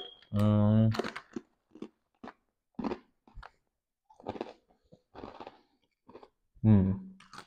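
Australian rice crackers being bitten and crunched, with crisp snaps and chewing scattered between bursts of talking, close to the microphone.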